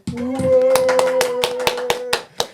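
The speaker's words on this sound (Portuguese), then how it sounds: "Uma salva de palmas aí para o Caê e para a Sabrina" An audience at a Portuguese-speaking church gathering in Switzerland claps for two members of the production team: about ten sharp, evenly spaced claps ring out over a steady sustained musical tone.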